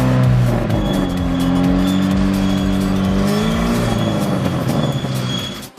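A warm Daewoo Nexia engine idles loudly up close during an exhaust check, its pitch swelling and easing as it revs, with a steady droning hum throughout.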